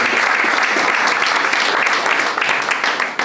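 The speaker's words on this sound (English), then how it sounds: "Round of applause for Martin Gillespie." An audience at an America First education roundtable breaks into applause, a dense, continuous wash of many hands clapping that holds steady and starts to taper near the end.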